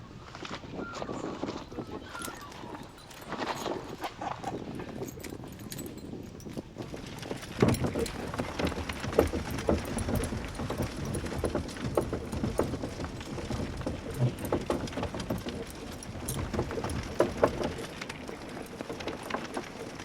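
Horse hooves clip-clop in a steady, close rhythm as the animal pulls a carriage, continuous and growing busier partway through, with faint voices in the background.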